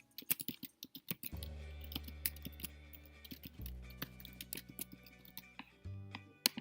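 A computer keyboard clatters as a business name is typed in quick, uneven bursts of close, crisp key taps, with a soft steady hum underneath.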